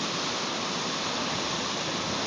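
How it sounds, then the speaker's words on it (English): Rushing current of flooded Porter Creek near Lake Erie, running high after flooding, a continuous loud broadband roar of water, close by with no breaks. "you can see the rush of the current here"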